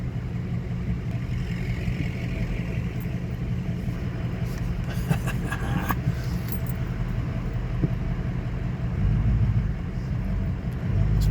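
A truck creeps over rocky off-road ground on a windy day, its engine a low steady rumble with rattling and jangling from the cab, a brief burst of clatter midway, and wind noise throughout.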